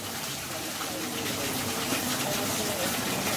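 Water gushes steadily into a biofloc fish tank during its final wash, a continuous broadband rush that stays loud and even throughout.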